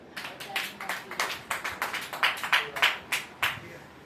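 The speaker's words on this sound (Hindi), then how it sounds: "चलो तालियां बजा।" A church congregation claps in a steady, fairly quick rhythm of sharp, close hand claps during a live service on spiritual warfare, with a faint voice underneath.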